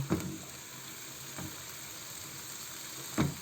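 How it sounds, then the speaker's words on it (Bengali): Pointed gourd (potol) frying in a pan of hot oil gives a steady, close sizzling hiss, with a few soft clatters of the pieces being moved around. "পটলটাকে প্রথমে আমি একটু ভেজে নিব"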